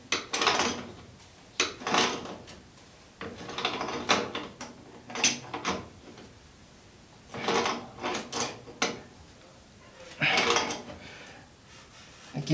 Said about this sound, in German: jetzt kann ich meine Überwurfmutter hier gut anziehen